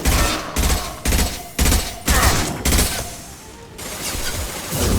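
Impact shot gunfire in the video game Mass Effect 2 booms in a string of about six loud, evenly spaced bursts, each with a short roaring tail, followed by a lingering rumble.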